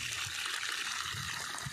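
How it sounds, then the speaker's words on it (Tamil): Water poured steadily into a planting pit around a young coconut sapling, a continuous close splashing trickle with no voices. "இந்த மாதிரி தான் விடணும் தண்ணியை."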